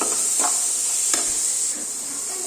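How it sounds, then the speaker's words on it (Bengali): Chickpeas frying in a small pan are stirred with a spoon, giving a steady bright sizzle broken by a few soft scraping strokes, close and fairly loud with no talking. "এবারে আমি নাড়া দিই ভালো করে নাড়া দিয়ে একটু ঢাকা দিয়ে রাখবো"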